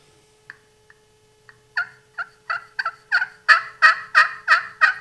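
A turkey pot call with a glass surface over slate is played up close, starting with a few faint soft clucks and then building into a loud run of sharp, rhythmic yelps that grow stronger toward the end, with no talking over it.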